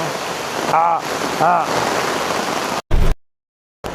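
Steady heavy rain hisses close by, with brief voice-like calls over it before the sound cuts out abruptly near the end.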